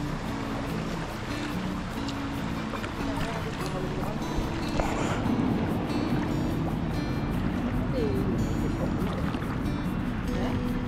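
Cruise boat coming in along the Savières canal in Savoie, a continuous low motor drone with water noise and some wind, while people talk quietly over it.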